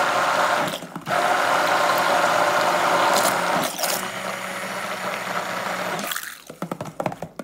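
A hand blender whirs steadily as it mixes eggs, sugar and cottage cheese for a pastina pie, running loud and continuous for several seconds with brief dips before stopping, followed by a few clattering knocks.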